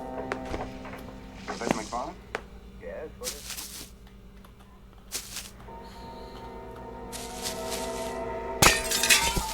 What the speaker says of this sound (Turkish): iki camı birden kırdım